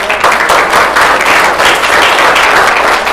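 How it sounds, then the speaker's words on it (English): Parents in the audience of an evening anti-bullying forum give a round of applause, dense, even clapping from many hands that holds steady and loud for several seconds. "So give yourselves a round of applause."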